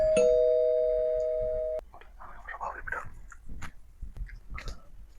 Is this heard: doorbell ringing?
yes